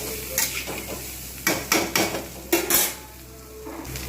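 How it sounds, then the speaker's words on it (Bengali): Peanuts with turmeric, cumin and chili powder are stirred in a pan, making loud scraping and rattling strokes in irregular bursts close up, with no talk. "ভালো করে এগুলো আমি নাড়িয়ে নেব।"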